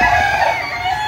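A rooster crowing at a gamefowl farm, one loud sustained crow close by, with other birds faintly in the background.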